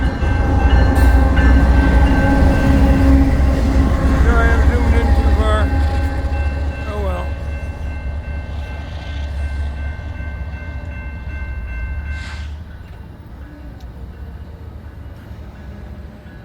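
Two BNSF and Union Pacific locomotives rumble past with a loud, droning engine roar that slowly fades as they move away, while someone speaks briefly over the noise.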